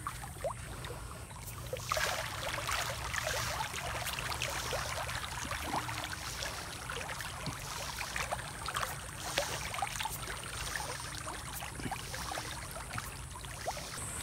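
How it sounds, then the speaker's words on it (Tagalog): Water leaks strongly from a hole in a tilapia pond, a steady trickling and rushing flow that runs continuously and fairly loud, with no talk over it. "may malakas na tagas na naman laang dito"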